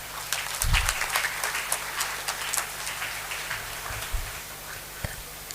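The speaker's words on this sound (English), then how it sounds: "Have a round of applause." Scattered, fairly quiet clapping from an audience at an annual prize distribution ceremony, uneven individual claps with a few low thumps, thinning toward the end.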